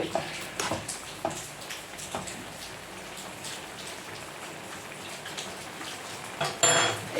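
A spoon stirs chopped breadfruit in a pan, light clinks and scrapes against the metal over a faint bubbling hiss, with a louder clatter near the end, quiet and close, with no talking.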